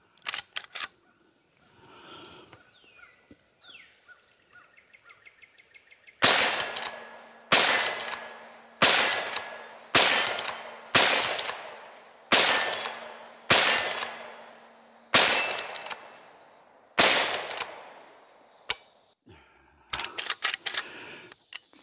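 Shots from a dirty 1975 Winchester 9422M lever-action rifle chambered in .44 Magnum, fired outdoors; about a dozen sharp, loud reports come at a steady pace of one every second or so, with quieter handling clicks and rustling before the first shot.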